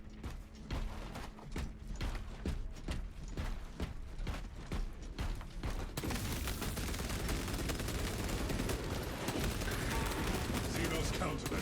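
Heavy bolter gunfire in the video game Space Marine, rapid sharp repeated shots in the first half giving way to a dense, continuous roar of fire and explosions, with speech heard over it.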